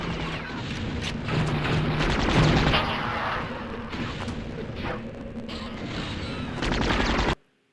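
The Thumper weapon exploding in a 1990s PC video game: a series of loud, booming blasts rolling over several seconds before stopping abruptly.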